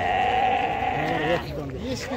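Several lambs bleat in wavering calls at a livestock market in Taraz, the cries overlapping with background chatter and livestock noise nearby.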